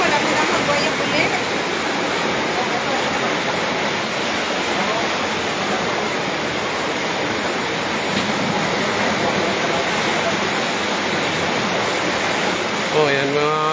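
Floodwater driven by a typhoon rushes in a loud, steady broadband roar that runs unbroken the whole time, with brief voices faintly at the end.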